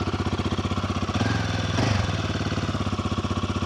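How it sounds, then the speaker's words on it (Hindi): A Royal Enfield Guerrilla motorcycle idling nearby, its exhaust giving a steady rapid thumping pulse with a brief rev swell in the middle, no talking. "यही एग्जॉस्ट नोट पहले आता था, वही अभी आ रहा है।"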